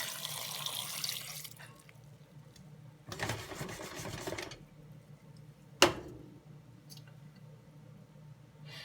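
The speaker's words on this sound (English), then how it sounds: "we're going to add a cup and a half of water" Water is poured into a pot of blackberries for blackberry dumplings, heard as two short bursts of splashing pour separated by quiet, followed by a single sharp clink.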